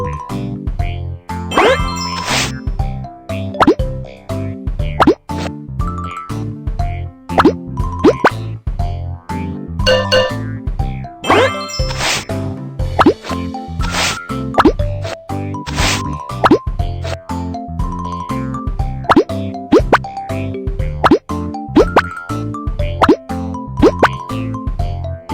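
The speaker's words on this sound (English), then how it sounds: "Let's build the brick wall first." Cartoon bricks pop into place one after another while a wall goes up in a Baby Panda city-building game, bright plopping and tinkling chimes with dings and boings over a steady bouncy backdrop of game sounds.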